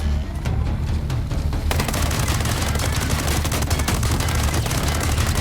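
Gunfire from the video game Ghost Recon Breakpoint, a loud, dense stream of rapid automatic shots with booming reports that grows even heavier partway through and continues without a break.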